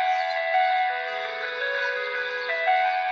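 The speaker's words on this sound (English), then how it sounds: "Oh, it's ice cream truck music." Ice cream truck music plays alone as a steady tinkling chime melody, bright and sustained with a few note changes, and no talking over it.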